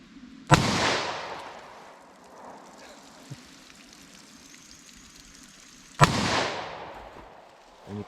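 Two sharp, loud revolver shots of .327 Federal Magnum rounds fired at pumpkins outdoors, about five seconds apart, each cracking hard and then trailing off in a long decaying echo, with quiet background between them.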